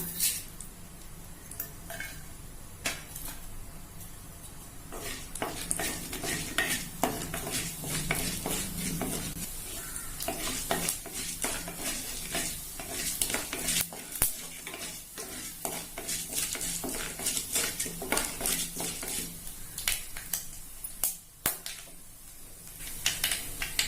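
Soft, continuous crackling and popping of mustard seeds and urad dal frying in hot oil, with occasional stirring scrapes against the pan, fairly quiet and close.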